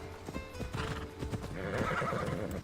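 Horses in Assassin's Creed Odyssey trot with quick clip-clop hoofbeats, joined by a loud, wavering neigh that rises over the steps near the end.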